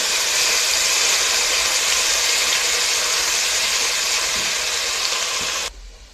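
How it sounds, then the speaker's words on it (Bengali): Chicken biryani base of garlic paste, ginger and onion frying in a pan, a loud steady sizzle and hiss that runs continuously for several seconds before cutting off abruptly near the end. "এখন ভালোভাবে কষিয়ে নেব।"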